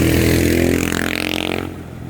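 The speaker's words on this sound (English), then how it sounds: "very loud motorbike" A very loud motorbike roars past close by on a road in Pangasinan, its engine droning strongly before fading quickly as it moves away, with no voices.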